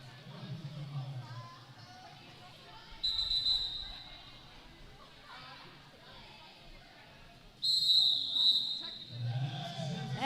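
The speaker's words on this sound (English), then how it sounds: "And that's the final whistle." A referee's final whistle ends a roller derby bout, sounding as two bright, shrill blasts a few seconds apart over crowd noise and arena chatter.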